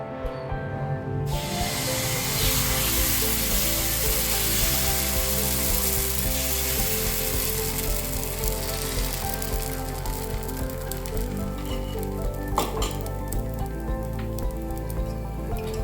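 Kodo millet dosa batter poured onto a hot pan hisses in a steady, close, broadband sizzle that runs unbroken for many seconds, with a faint scrape near the end.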